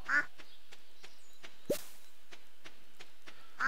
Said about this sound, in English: I built these walls to keep my ducks and chickens from straying too far.